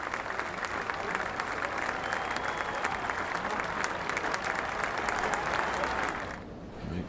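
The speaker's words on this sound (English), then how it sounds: "The crowd surrounding the 18th green stand and applaud Tiger Woods" A large golf gallery standing around the 18th green applauds Tiger Woods at the 1999 Memorial Tournament, dense steady clapping heard from a distance that fades near the end.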